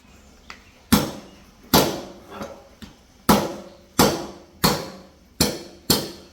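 Metal washers are tapped onto the axles of a Radio Flyer wagon rat rod build: sharp, ringing hammer taps, about nine strikes at a steady rhythm, each decaying quickly, close up with no talk.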